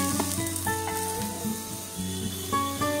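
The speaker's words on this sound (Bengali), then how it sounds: "এবার বেগুনটাকে আমি ভালো করে ফ্রাই করে নেব।" Eggplant slices frying in hot oil give a steady close sizzle for a Bengali yogurt eggplant dish, with a few light clinks of a utensil and a tonal hum in the background.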